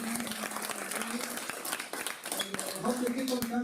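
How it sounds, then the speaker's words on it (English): An audience at a React developers' meetup claps in a steady, continuous round of applause that fills the room, with people's voices talking over it throughout. "Another big round of applause for the three speakers who put a lot of time."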